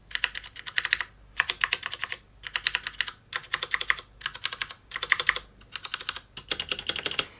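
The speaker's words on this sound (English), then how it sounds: "I will let you hear the difference between the the keys with just switches underneath and the keys with both switches and stabilisers." Func KB-460 mechanical keyboard with keys pressed all the way down, bottoming out in about eight quick bursts of clacky typing, close and crisp with short pauses between bursts.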